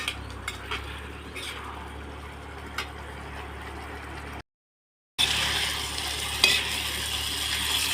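Vegetables stirred and fried in a pan at home, a steady close sizzle with scraping stir strokes and light clinks of utensil on metal, briefly cutting out before the frying resumes louder.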